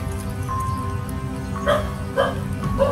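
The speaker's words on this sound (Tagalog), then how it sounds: "Pakinggan niyo yung aso mga kaibigan" A dog barks three times at a distance, short yips spaced about half a second apart over a steady low rumble of background noise.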